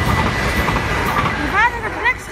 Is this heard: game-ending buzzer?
no